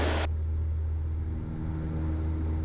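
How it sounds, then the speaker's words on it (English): Small airplane engine running at full takeoff power during a climb-out in Florida, a loud, steady droning rumble with strong low harmonics that holds throughout with no talk. "Bringing the power up, and takeoff power is set."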